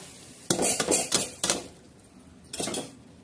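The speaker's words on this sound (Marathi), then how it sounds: "भोपळा म्हणजे लवकर छान असा हलवून घेणार आहोत" A spoon scrapes and clinks against a pan while stirring a dry pumpkin and moong dal curry, heard as several quick metallic bursts close up, then a pause and one more stir.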